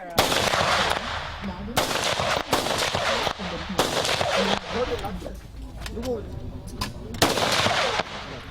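Rapid gunfire from American and Viet Cong guns at a tourist shooting range in Vietnam rings out in repeated loud bursts and volleys with short gaps, and faint voices run underneath.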